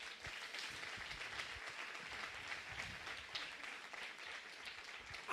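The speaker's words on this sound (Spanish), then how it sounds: "Entonces le da un aplauso al soberano" A church congregation applauds in praise during a sermon, steady, dense clapping that holds at an even level throughout, heard at moderate distance with no voices over it.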